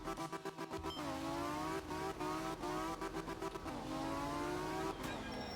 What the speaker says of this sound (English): That is a funky engine sound.